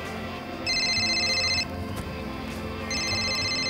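Cell phone ringtone chirping in two bright electronic bursts separated by a pause, over steady background room noise, with no talking.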